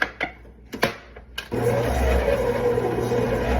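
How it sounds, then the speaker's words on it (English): A few knocks and clatters, then an electric mixer or blender starts up and runs with a steady close whir, mixing sugar and brown sugar for chocolate chip cookie dough. "you want to mix these in your blender or your mixer first"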